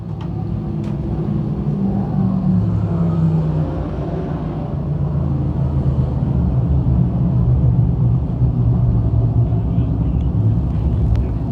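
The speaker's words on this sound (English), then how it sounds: "We got cars around in corner number 1 and 2 right now." Dirt modified race cars, DIRTcar 358 Modifieds at Can-Am Speedway, roar continuously through corners one and two in a loud, steady engine rumble, with a track announcer talking over the noise.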